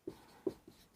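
Chalk or a marker taps and strokes on a board during a maths lesson, three quick faint marks within a second in an otherwise quiet room.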